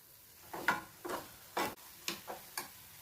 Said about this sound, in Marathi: आपण आता पूर्ण साखर विरघळेपर्यंत आपण थोडंसं हलवून घेऊयात आता